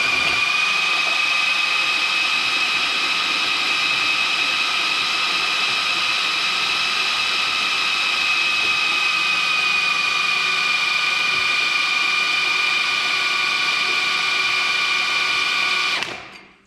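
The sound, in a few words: drill spinning Oliver Hydra Power Drive via radiator hose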